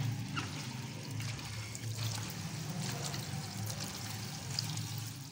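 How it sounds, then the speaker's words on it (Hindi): Water pours and trickles steadily out of bitter gourds as they are washed and squeezed by hand, a faint, continuous splashing with occasional drips. "ये देखिए, ये निकल रहा पानी"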